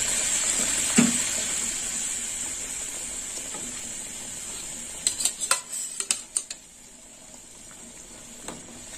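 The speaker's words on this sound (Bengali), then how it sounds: "ঝোল ফুটে গেছে, এবার আমি ভাজা মাছগুলো দিয়ে দেবো।" Fried fish pieces dropped into boiling curry gravy in a pot, giving a short cluster of soft splashes and clinks over a steady low bubbling hiss, with no talking.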